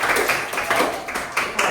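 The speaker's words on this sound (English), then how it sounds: "Give him a round of applause for that." A classroom gives a short round of clapping, a quick burst of overlapping hand claps from a small group.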